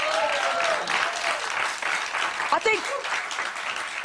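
A television studio audience applauds steadily for the full stretch, a dense wash of clapping with a brief voice speaking partway through.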